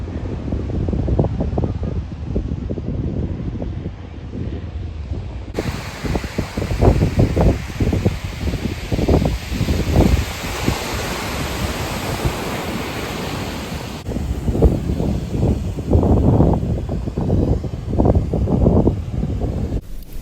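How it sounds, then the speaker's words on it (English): Strong gusts buffet the microphone with loud, rumbling blasts that swell and fade unevenly, over a steady roar of surf in the background. "but it's freaking windy"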